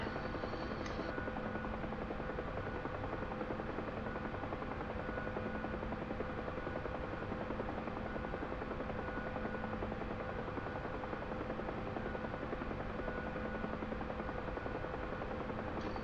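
A Huey gunship helicopter in a flight simulator game gives a steady, unbroken rotor drone and engine whine at even loudness, with no voices, during a training flight.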